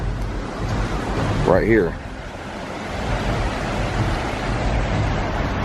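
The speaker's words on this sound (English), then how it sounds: "It's this really nice creek" A creek flows with steady, close rushing water mixed with wind noise. A voice briefly speaks over it.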